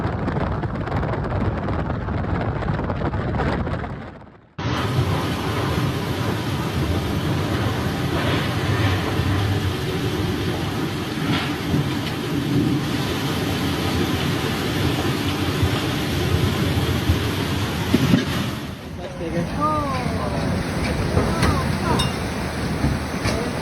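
Storm Benjamin's intense winds of up to 150 km/h battering a microphone on Europe's highest sand dune, a loud, roaring, gusting rush that cuts out briefly and then resumes.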